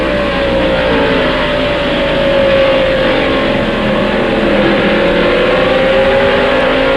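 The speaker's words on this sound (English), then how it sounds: "as he accelerates down the straightaway up to 119 miles an hour" Kyle Petty's stock car roars steadily down the straightaway at North Wilkesboro during the 1995 First Union 400, reaching about 119 mph, a loud continuous close engine drone with no talk.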